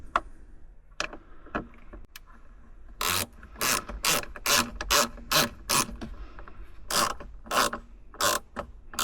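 Hand ratchet tightening an amplifier mount in a Toyota Tundra, a close rhythmic series of sharp clicking strokes, sparse at first and then fast and regular, with no talk.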